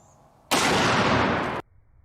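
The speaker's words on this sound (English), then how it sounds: "I'll now play the clip of the explosion" Recorded explosion from an overcharged device, a single loud broadband blast about one second long that cuts in abruptly and stops just as suddenly, with near silence on either side.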